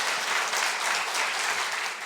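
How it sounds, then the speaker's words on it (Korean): Dense, even clapping fills the room as an audience applauds to welcome a professor giving a lecture on fundamental rights at a public citizens' academy, steady and fairly close, fading slightly at the end. "박수를 청해 보겠습니다."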